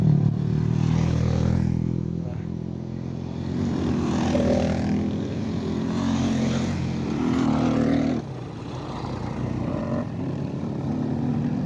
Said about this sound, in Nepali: ल रेस भएर रहेछ यहाँ बाइकको